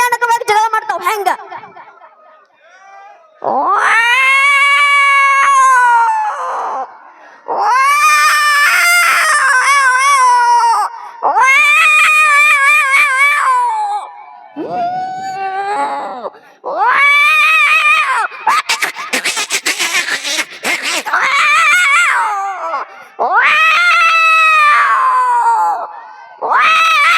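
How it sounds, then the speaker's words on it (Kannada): Cats fighting at midnight, with loud, drawn-out caterwauling yowls and screeches that rise and fall in repeated bursts, some overlapping and harsh, separated by short pauses. "ಬೆಕ್ಕುಗಳು ಮಧ್ಯರಾತ್ರಿ ಅಂದ್ರೆ ಭಯಾನಕವಾಗಿ ಜಗಳ ಮಾಡ್ತಾವ್"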